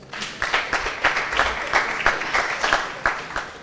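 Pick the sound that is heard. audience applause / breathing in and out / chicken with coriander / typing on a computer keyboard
audience applause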